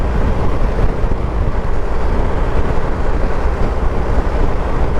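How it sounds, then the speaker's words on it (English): Steady, loud wind buffeting a microphone while riding a motorcycle in wet weather, a constant roaring rumble with no talking. "the majority of the noise I'm getting is just from the wind out here"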